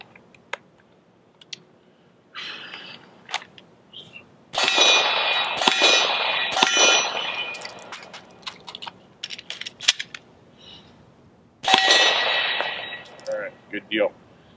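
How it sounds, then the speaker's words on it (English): A handgun is reloaded from slide lock by hand, with sharp metallic clacks and clicks as the magazine is ripped out and slammed back in, several loud bursts of handling noise separated by quieter shuffling. "rips the magazine out of the gun, puts the mag back in the gun"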